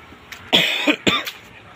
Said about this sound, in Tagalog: inuubo ako kasi may lagnat